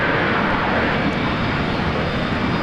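A Boeing 767 airliner landing at Brisbane Airport, its engines producing a loud, steady broadband roar that holds evenly for the whole stretch with no voices over it.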